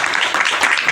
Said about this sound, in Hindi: इनके लिए मैं चाहता हूँ जोरदार तालियां